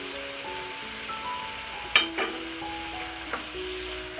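Chicken pieces sizzle and fry steadily on medium-high heat with paprika powder added for shawarma, a continuous crackle broken by a few sharp stirring clatters of a utensil against the pan.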